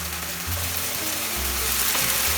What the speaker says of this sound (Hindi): अभी अदरक लहसुन और हरी मिर्च का पेस्ट डाल देती हूँ।